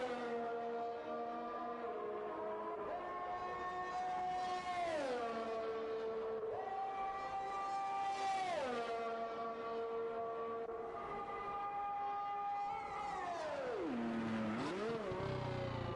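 A Formula 1 car in the video game F1 2021 laps an Italian circuit, its high engine whine climbing in pitch and dropping at each upshift, repeating steadily over several gear changes with no talking.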